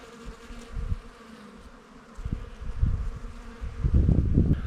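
Honeybees forage on freshly opening flowers on a sunny February day, a soft steady buzzing from several bees with louder swells as individual insects fly close, growing busier toward the end.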